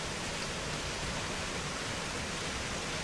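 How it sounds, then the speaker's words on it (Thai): The Kaeng Sam Chan waterfall rushes steadily, a broad and even roar of flowing water that stays constant throughout with no voices. "น้ำตกแก่งสามชั้น สวยไหมครับ"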